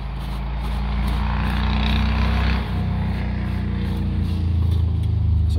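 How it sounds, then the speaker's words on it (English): A Harley-Davidson motorcycle rumbles past at a distance, a steady low engine drone that briefly dips and then swells again as it goes by, with no talking. "Somebody out riding a Harley."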